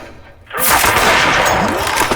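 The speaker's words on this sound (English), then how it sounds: "Flashbang." A flashbang sound effect bursts in sharply after a brief quiet moment, then holds as a loud, dense blast and ringing roar that lasts to the end without letting up.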